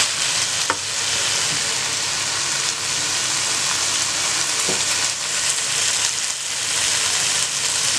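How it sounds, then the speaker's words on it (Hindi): Capsicum and chicken sizzle and fry steadily in a pan while being stirred, a constant loud hiss with occasional scraping taps, no voices. "अब इसमें हमने शिमला मिर्च डालनी है। इसको अच्छी तरह से मिक्स कर लें"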